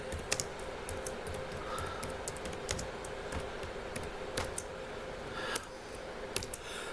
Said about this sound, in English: once I start typing it in